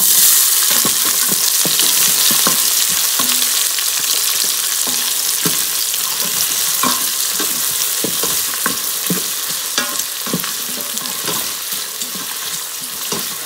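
Onions sauté with whole garam masala in an Instant Pot, giving a loud, continuous close-up sizzle broken by frequent clicks and scrapes of stirring.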